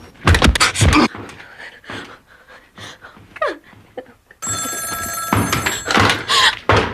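A telephone rings insistently in a tense emergency reenactment, a steady electronic ring arriving partway through after scattered thumps, a door-like knock and heavy breathing.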